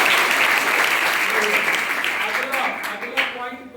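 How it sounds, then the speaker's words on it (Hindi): Children in a school road safety club clap together in a dense burst of applause that gradually thins out toward the end, with a voice beginning to speak as the clapping fades. "ताली बजाओ"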